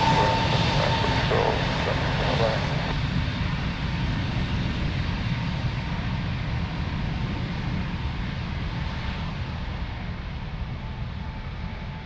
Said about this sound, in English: Big boy is taxiing.